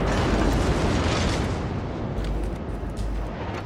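Armor-piercing shells thunder out from a warship's guns in a naval combat game, a dense, loud wall of booming gunfire and rumbling blasts that eases slightly after the first second and carries on without talk.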